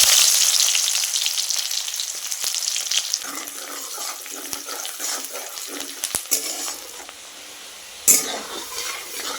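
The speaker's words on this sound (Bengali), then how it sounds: "তেলটা গরম হয়ে গেছে, এখন আমি পেঁয়াজ কুচি দিয়ে দিচ্ছি।" Chopped onions hitting hot oil in a home kitchen, starting with a loud hissing sizzle that settles into steady frying with faint clatter of stirring and a sharp knock near the end.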